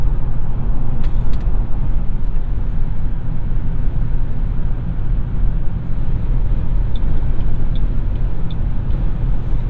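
A 2008 Ford Mustang GT convertible with a Tremec five-speed manual gearbox cruises along a shore road, its V8 a loud, steady low rumble mixed with road and wind noise from the open cabin, and a few faint ticks and clicks.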